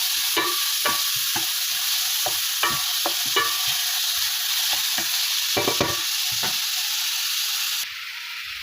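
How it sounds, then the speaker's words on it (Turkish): Chopped onions frying in a pan for içli köfte, a loud constant sizzling hiss with repeated scraping strokes of a spoon stirring through them, the sizzle dropping slightly near the end. "Soğanın biraz pembeleşene kadar karıştırıyorum."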